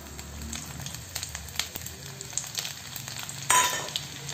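Four to five garlic cloves and three whole red chilies fry in hot oil beside golden-browned ingredients, giving a close, soft, continuous sizzle with scattered crackles and a louder burst of spitting near the end, no one speaking.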